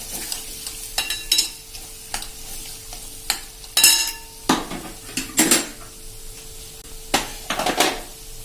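Masala stirred in a pan for a Punjabi sev tomato curry: repeated sharp clinks and scrapes of a spoon against metal over a low sizzle, close-up and irregular, with no talking.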